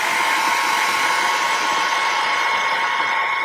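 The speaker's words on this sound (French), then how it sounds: "je vais éventuellement passer un petit coup de sèche-cheveux" A hair dryer blows steadily and loudly for the whole stretch, a constant whooshing hum with no breaks or talking.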